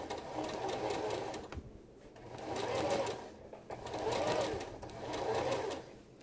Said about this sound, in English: I'm sewing at 5/8 of an inch. So do a normal stitch. I'm going to back stitch.